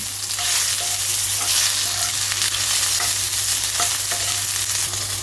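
Tomato and panch phoron frying in a pan, with a steady loud sizzle and occasional scraping strokes of stirring throughout, no voices.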